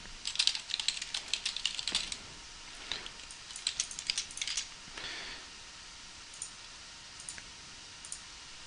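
Computer keyboard typing while product information is entered into an online rental booking shop, with dense bursts of clicky keystrokes early, then scattered short runs and isolated taps fading toward the end, close and fairly quiet with no talk.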